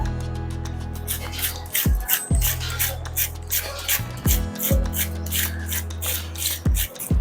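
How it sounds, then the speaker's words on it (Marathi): Cabbage is rubbed against a grater to shred it finely, making close, rhythmic rasping strokes in short bursts over steady background music. "कोबी आपण चिरून घेतलाय आता तो किसून घेऊया"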